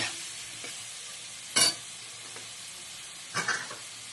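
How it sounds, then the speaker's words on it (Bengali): Spice paste being stirred into a vegetarian soybean curry in a pan: two brief, distinct scraping stirs about two seconds apart over a faint, steady background hiss, with no voices. "মশলাটা আমি এর মধ্যে দিয়ে দেবো। দিয়ে ভালো করে মিক্স করে দেবো"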